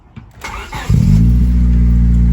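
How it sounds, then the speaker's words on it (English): A Honda Civic EK engine with no catalytic converter cranks briefly, then catches and settles into a loud, steady, raspy idle close by. "So I'm gonna start up. We're gonna hear how it sounds with no cat."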